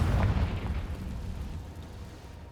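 A Confringo fire spell blast in the video game Hogwarts Legacy, a single deep boom at the start that rolls off into a fading rumble.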